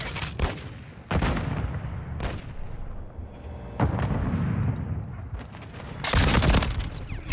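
Gunfire in a Search and Destroy match of a shooter video game, with loud bursts of shots and blasts at irregular intervals over continuous game noise, the heaviest burst near the end; no talking.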